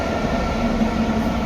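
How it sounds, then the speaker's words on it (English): A locomotive with twin engines and no cars rolling past close by, a loud continuous low rumble with rattling undertone filling the whole moment. "A train is passing by."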